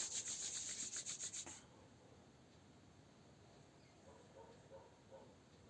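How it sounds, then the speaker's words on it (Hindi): Palms rubbed briskly together to generate warmth during a basic yoga session, heard as a close, soft rhythmic swishing of about nine strokes that stops abruptly, followed by quiet room tone. "हथेलियों को रगड़ के खूब गर्म कर दीजिए, उसमें ऊष्मा पैदा हो जाए।"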